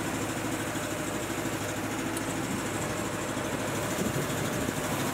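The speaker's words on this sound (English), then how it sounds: "We've got the Honda engine running." Honda engine driving an air compressor runs at a steady, loud, continuous drone with constant vibration and no breaks, heard close up and alone.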